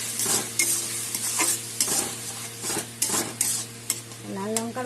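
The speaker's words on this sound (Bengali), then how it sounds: "এখন এগুলো দিয়ে কষাবো।" Tomatoes with salt and turmeric sautéing in a pan, a steady close sizzle with repeated scraping stirs of a spatula and a few clinks, no talk.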